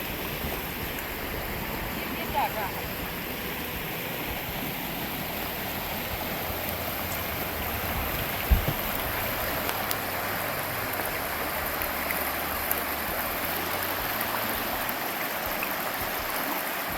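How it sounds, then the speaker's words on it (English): Creek water flowing steadily beside a campground in North Carolina, a continuous broadband rush close by with no breaks and a few faint clicks. "Can't wait to go to sleep tonight to the sound of the creek."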